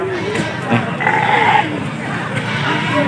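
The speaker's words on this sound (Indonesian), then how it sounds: "Domba-domba." Sheep bleat at a goat market in Lampung, Indonesia, with a few close, wavering calls rising over crowd noise and nearby talk.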